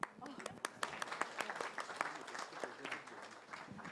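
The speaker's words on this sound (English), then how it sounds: "This needs an applause, no?" Audience applause at a UNESCO Culture 2030 indicators workshop in Mauritius, dense steady clapping from a seated crowd lasting several seconds, fairly close and lively without a break.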